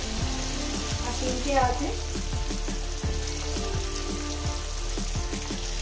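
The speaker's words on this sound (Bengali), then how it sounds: "মাছগুলো এক পিস ভাজা হয়ে গেছে" Rohu fish pieces frying in hot oil give a dense, steady sizzle with crackling pops, heard up close. A voice speaks briefly over the frying.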